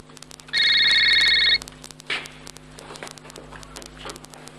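A telephone ringback tone sounds down the line as a call goes through, a steady doubled ring that plays for about a second before cutting off, followed by quieter room rustle and footsteps.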